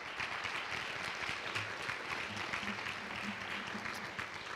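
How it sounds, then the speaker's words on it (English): A seated audience claps for a finalist at a three minute thesis competition, a steady, moderately loud wash of applause with no break throughout. "How about a nice round of applause for all?"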